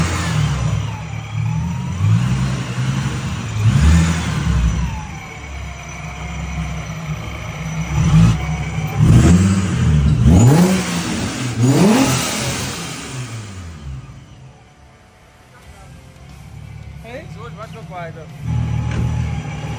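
A car fitted with a Vortech supercharger revs on a dyno in a loud run of repeated rising engine sweeps with a whining edge, then eases to a lower idle near the end, while people talk.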